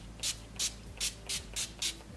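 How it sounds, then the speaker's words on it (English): NYX Dewy Finishing Spray is misted onto a face in six quick, evenly spaced spritzes, each a short soft hiss, close and quiet with no talking. "I'm going in with the NYX Dewy Finishing Spray"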